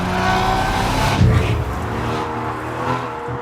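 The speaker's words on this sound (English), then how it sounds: "this car's actually fitted with an aftermarket Quicksilver exhaust" An Aston Martin V12 Vanquish with an aftermarket Quicksilver exhaust roars loudly and steadily up close, with a brief surge in the middle of its sustained engine note.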